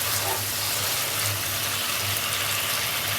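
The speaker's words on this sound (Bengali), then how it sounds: "এই দেখুন মশলাটা কষানো হচ্ছে" Spice paste for roopchanda (pomfret) fish masala frying in hot oil in a pan, a steady, dense sizzle that stays even and unbroken throughout, with a faint low hum running beneath it.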